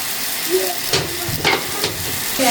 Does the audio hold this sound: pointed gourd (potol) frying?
yes